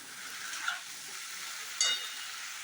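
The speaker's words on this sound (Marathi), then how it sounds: "तळलेले जे बटाटे आहेत ते सगळे ह्याच्यात घालायचे आहे आणि परतून घ्यायचे आहे" Fried potatoes for chili potato sizzle steadily in a pan as they are tossed, with two brief scraping stir strokes breaking through the hiss.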